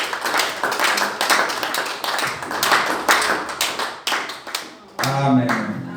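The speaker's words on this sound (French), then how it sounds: "Est-ce qu'on peut acclamer le Seigneur pour ces messages?" Congregation at a French-language church service clapping to acclaim the Lord, a dense run of rhythmic handclaps that stops briefly, then a voice speaks over a murmur.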